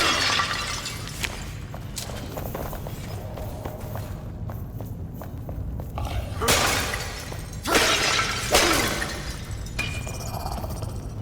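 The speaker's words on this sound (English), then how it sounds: "I should smash more of these things" Breakable objects smashed in a temple in the game Enshrouded, several loud crashing shatters spaced apart over a steady background of footsteps and ambience.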